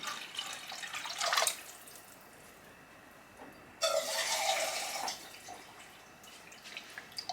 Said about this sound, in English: I'm going to add my water in.